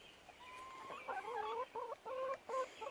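Chickens cluck inside a backyard coop holding a Cuckoo Marans rooster and a Silver Laced Wyandotte hen. A single bird gives a run of soft, quick clucks and short calls, close and fairly quiet, with no talking.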